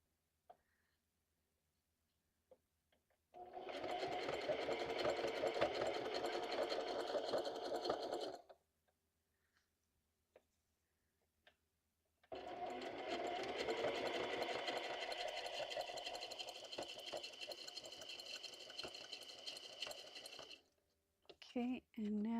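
A sewing machine stitches a junk journal in two runs, each a few seconds of steady, rapid needle whirring close by, separated by a quiet pause with small clicks, then brief clatter at the end.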